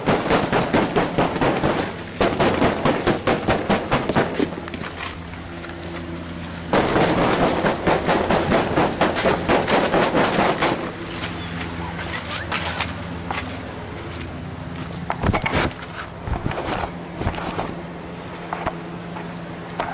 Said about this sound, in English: So we're just gonna bang on this a little bit, make sure we get all the water.